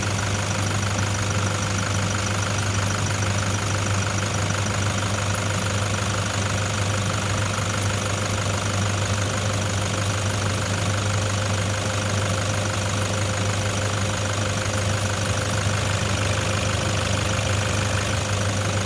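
A car engine idles with its oil cap removed, giving a steady, loud, even mechanical drone with a ticking knock that runs continuously and unchanged throughout, with no talk.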